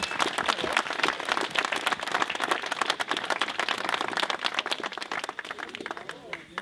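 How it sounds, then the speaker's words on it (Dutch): A village audience applauds volunteers and sponsors at a community building's reopening, with steady dense clapping from a sizable crowd that fills the whole stretch at moderate, somewhat distant volume. "Een enorm applaus voor deze mensen lijkt me zeer zeker op de plaats."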